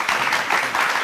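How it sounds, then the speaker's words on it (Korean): A studio audience applauds two professors at the close of a Korean church broadcast program, a steady, fairly loud wash of many hands clapping for about a second. "오늘 두 교수님에게 아마 박수갈채를 보내고 싶습니다."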